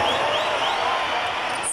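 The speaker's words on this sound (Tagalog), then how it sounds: "Grabe po yung hiyawan dito ng mga kababayan po natin." A packed crowd roars and shouts in a basketball arena during overtime of a Game 7 finals between TNT and Barangay Ginebra. The dense, loud cheering lasts for the whole short stretch, with a commentator talking over it.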